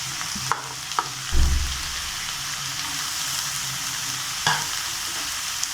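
Carrot, cabbage and capsicum sautéing in a pan, a close, steady sizzle with a few sharp scrapes and knocks of a spatula stirring the vegetables.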